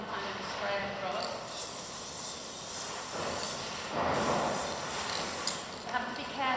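Spray paint hissing steadily from a can onto a wicker chair during a re-spray, in short continuous bursts with a few brief pauses, close and moderately loud, with a voice faintly present.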